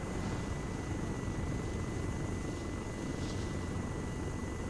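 A military helicopter in the video game Arma 3 gives a steady, loud rotor and engine roar that fills the whole stretch without a break, with no voices over it.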